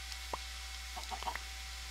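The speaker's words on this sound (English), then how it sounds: "All these chickens." Chickens in the video game Minecraft give a few short, sparse clucks, faint against a quiet background hum.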